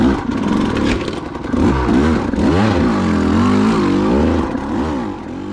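Motocross dirt bike engine running rough and soft on a track, not cleaning out, its uneven revs rising and falling continuously, loud and close with no talk.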